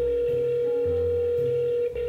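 A steady telephone dial tone hums alone, with a brief click near the end.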